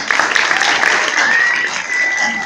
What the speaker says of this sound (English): So let's give all the adults a round of applause.